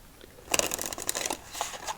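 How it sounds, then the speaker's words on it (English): Four decks of stiff playing cards being shuffled, a burst of crisp riffling flutters and soft snaps up close, alone without talk. "A little more shards coming off as we shuffle."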